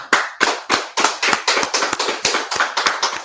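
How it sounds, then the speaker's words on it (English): Rhythmic group clapping at a worship gathering, about a dozen sharp, evenly spaced claps in a steady beat, close and loud, with no talking over it. "Let's clap it up."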